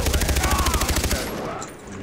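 Rapid automatic gunfire in Far Cry 3 rattles off in a steady burst of close, loud shots for about a second, then cuts to quieter game ambience.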